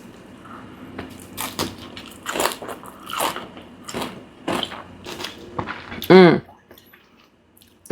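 Crunchy air-fried tofu and noodles bitten and chewed up close, a string of crisp crunches and bites with a louder burst near the end, no talking.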